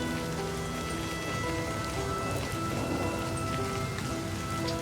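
Steady rain falls in the video game LIVBER: Smoke and Mirrors, a soft, even patter of drops on surfaces, constant and fairly quiet throughout with a faint low hum underneath.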